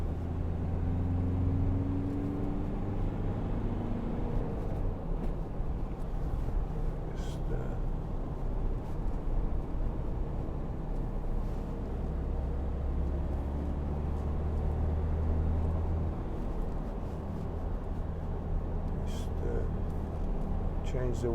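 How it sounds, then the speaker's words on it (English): Steady low road rumble and tyre noise from a 2012 Volkswagen Amarok 2.0 BiTDI on all-terrain tyres, a continuous moderate drone through the whole drive with no talk over it. "tiny bit of noise off the all-terrain tyres"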